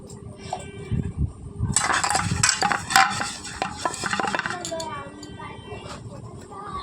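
A metal wok (kadai) is handled and greased with oil, giving a run of close clinks, scrapes and clatters over about five seconds against a low background hum.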